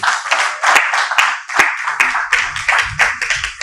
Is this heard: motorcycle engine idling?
no